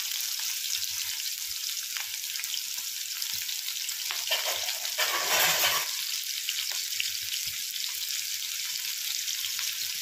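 A thick onion frying in hot oil with cumin seeds gives a steady, loud sizzle close up, with a brief stirring swell midway and no speech.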